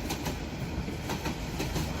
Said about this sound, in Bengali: চারদিকে শুধু ট্রেনের ছুটে চলার শব্দ